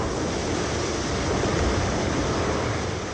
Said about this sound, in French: Il y a des vagues, ça tape dans tous les sens.